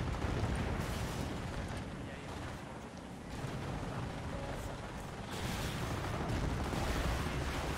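Artillery bombardment in the Company of Heroes video game rumbles on as a dense, continuous barrage of booms and blasts, loud throughout with a brief dip in the middle.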